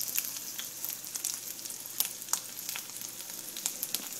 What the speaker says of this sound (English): It doesn't take long to cook eggs, so what I do is once I know that it's browning on the bottom